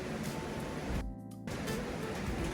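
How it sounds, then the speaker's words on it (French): Rice is rinsed under running water, a steady rushing hiss that drops out for a moment midway and then resumes. "I'm gonna rinse the rice"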